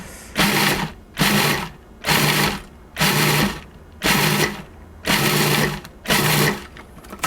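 A food processor pulsing a chocolate pie crumb crust, seven short loud whirring bursts in a steady rhythm, each about half a second long and separated by brief pauses, with no talking.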